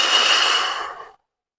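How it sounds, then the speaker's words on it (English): One long, deep exhale after a workout rushes out breathily and close, then fades into silence. "Slow your breathing. Nice, easy, deep breaths."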